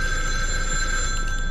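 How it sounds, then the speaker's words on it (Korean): A telephone rings in the survival horror game The Evil Within 2, a bright electronic bell trilling steadily over a low rumbling game ambience, with no talk. "전화 전화."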